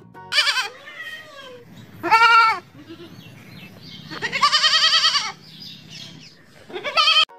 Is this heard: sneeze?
no